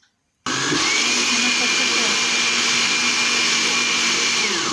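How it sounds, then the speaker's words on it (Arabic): An electric blender mixing baghrir batter switches on abruptly and runs at a steady, loud whirring roar for several seconds without pause. "ودابا غنخلطهم في الخلاط كهربائي"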